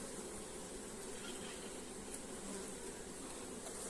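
Honeybees fill the air during a hive inspection with a dense, continuous buzz. The hum sits close and steady and stays fairly quiet throughout, with no speech.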